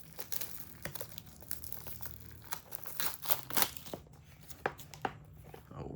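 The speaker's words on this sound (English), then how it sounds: "Let's remove the plastic first." Plastic film comes off a kids' H10 smartwatch during unboxing, heard as faint close crinkling and crackling with brief tearing rustles and irregular handling clicks in a quiet room.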